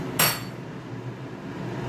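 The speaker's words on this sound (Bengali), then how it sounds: "এবার দেখি, ঢাকাটা খুলি।" A lid lifted off a cooking pot, one sharp metallic clank near the start followed by a quiet steady room hum, no talking.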